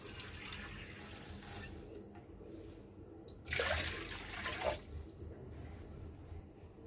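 Water is poured in for a jelly milk pudding, with a short, brighter splashing burst of about a second standing out over a quiet, hissy kitchen background.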